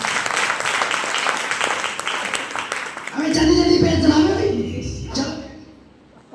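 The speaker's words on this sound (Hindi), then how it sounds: "मैं उनके सम्मान में एक बार जोरदार ताली चाहती हूँ" A crowd claps in honour of a guest, a brisk burst of applause that fades after about three seconds into murmuring and a voice speaking.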